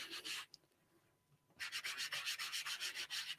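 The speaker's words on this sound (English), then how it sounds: "we're going to just rub this direct from the pad right onto the foam." Ink pad rubbed directly onto a piece of foam while making a card, giving soft, rapid scrubbing strokes in close bursts, with a brief quiet pause before the rhythmic rubbing resumes steadily.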